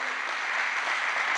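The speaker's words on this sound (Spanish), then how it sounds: "Denle un aplauso al Señor, mis amados hermanos" Church congregation claps in a dense, steady burst of applause, loud and close, with no speech over it.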